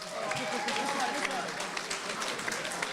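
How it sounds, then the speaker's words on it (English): Gala dinner audience applauding the top ten finalists, a dense, steady round of clapping from a large crowd filling the room, with some voices mixed in throughout. "Give them another round of applause."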